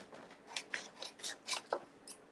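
Scissors rough-cutting printable paper bookmarks, a series of about eight crisp snipping strokes in an uneven rhythm, close and fairly quiet, with no talking.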